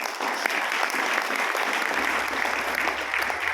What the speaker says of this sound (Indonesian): beri tepuk tangan untuk Pak Anton Musa, Bapak Ibu.